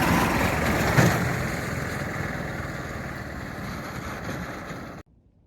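A tractor fitted with a snowblower runs on a snowy farm while clearing alpaca pens, giving a steady, close engine drone with a rushing blower texture that fades slightly before cutting off.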